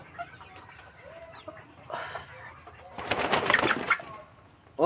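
Three-month-old Mardi chickens cluck and call in short scattered bursts, with a louder flurry of clucking and rustling in the middle, at moderate distance and without speech.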